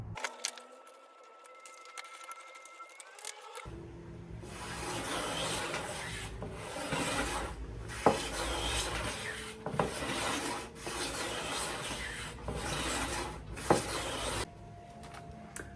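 A hand plane shaving the edge of a wooden guitar side, repeated rasping strokes in a steady rhythm, close and clear after a short quiet start, with no talking.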